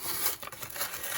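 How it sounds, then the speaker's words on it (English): A bag of powdered milk rustles and scrapes up close in a home kitchen, with brief crinkly, papery scratches that come in quick bursts. "Sorry for the scraping noise on the bag."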